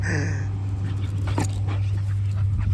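A dog whimpers in short, high whines at the start, then softer yips over a steady low hum, fairly close.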